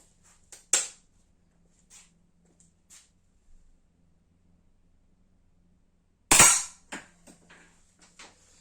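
Two sharp, snappy shots from a Blow H01 4.5mm air pistol (4 joules), several seconds apart, each followed by faint small ticks and knocks in an otherwise quiet setting.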